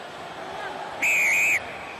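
A referee's whistle at a professional rugby match between the Ospreys and Munster, signalling a penalty: one sharp, loud blast lasting about half a second, rising over a low crowd murmur in a stadium.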